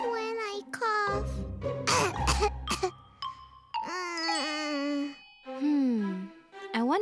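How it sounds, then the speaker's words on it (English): A young girl in an animated cartoon coughs several times in harsh bursts, set among child dialogue and light chime-like tones. "When I cough."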